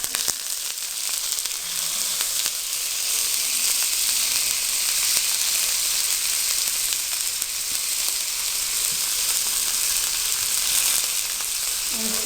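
Onions frying in a pan for tawa pulao, a loud, even hiss of sizzling oil sustained throughout with faint crackles and scattered pops, no voices.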